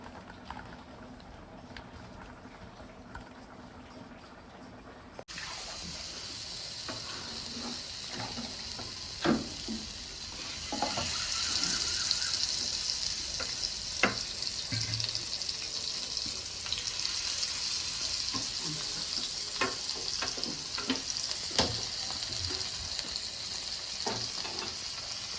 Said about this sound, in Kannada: ಫ್ರೈ ಮಾಡೋಣ ನೀಟಾಗಿ